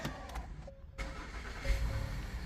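An Acura MDX engine starting after rear brake pad work: a short crank, then the engine catching and settling into a steady idle, heard up close with no talking.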